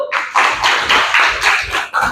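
A class of eighth-grade students claps together in a school classroom, giving a loud, rhythmic series of group bursts about three times a second with no talking.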